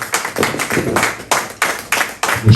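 A church congregation claps in rhythmic bursts, several sharp, close rounds of hand claps in quick succession with no speech.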